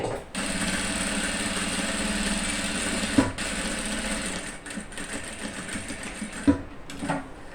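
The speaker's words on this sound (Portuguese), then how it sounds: "E vou passar aqui uma costura com a medida do pé de máquina." A sewing machine stitches a seam along a fabric dish towel, running in a steady, close, continuous whir with a couple of brief pauses and clicks.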